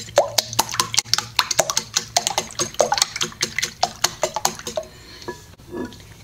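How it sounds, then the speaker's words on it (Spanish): Five eggs are beaten in a bowl for a Spanish tortilla, a quick rhythmic series of close wet slaps and clicks that slows and fades near the end. "Sostenemos los 5 huevos y los ponemos en un bol y los empezamos a batir."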